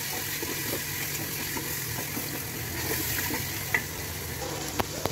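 Egusi sizzles in a pot as it is stirred, a soft continuous frying crackle with faint scraping and a few sharp clicks near the end, no voices.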